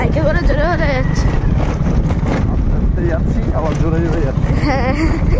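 Fast motorbike ride through rural Sundarban lanes, with steady wind roaring across the microphone throughout and people talking over it.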